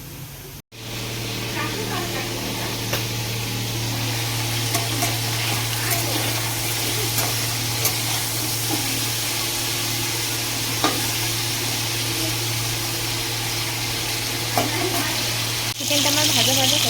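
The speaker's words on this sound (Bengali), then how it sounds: "আর চিকেনটাকে ফ্রাই করবো" Chicken fries in hot oil with a steady loud sizzle that runs throughout, broken by occasional stirring clinks and a short pause near the start.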